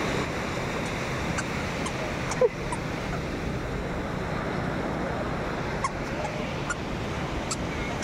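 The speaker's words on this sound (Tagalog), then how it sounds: "Ala, may dagat na." Sea waves wash onto the shore in a steady, close rush of surf with wind noise, continuous and moderately loud, with a couple of faint clicks and a brief knock.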